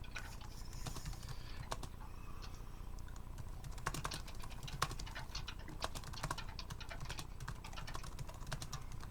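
Steady typing on a computer keyboard, a continuous patter of quick, light key clicks with occasional louder taps, close by and without talk.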